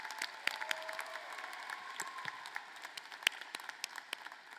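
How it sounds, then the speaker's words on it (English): Audience at a spring commencement ceremony applauds two graduating seniors, a faint, distant wash of clapping with a few sharper individual claps standing out. "A round of applause for these two outstanding seniors"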